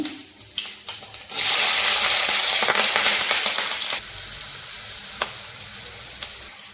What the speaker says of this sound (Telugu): ఉల్లిపాయ పచ్చిమిరపాయ ముక్కలు వేగినాయండి